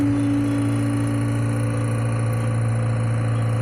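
A John Deere tractor idles steadily in cold 24-degree weather to warm its hydraulic oil, a loud, even, close engine drone with a constant low hum and no talking.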